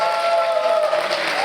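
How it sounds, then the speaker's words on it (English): Applause from a gala audience at a Korean American community event, a brief steady wash of clapping from the crowd, fairly loud and without speech. "Give her a warm round of applause."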